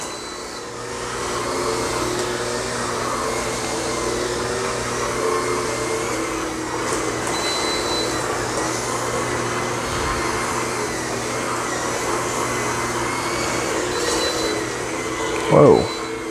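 A Bissell Spinwave spin mop cleans a dirty floor with a steady, close motor whir that holds for the whole stretch, under occasional talk.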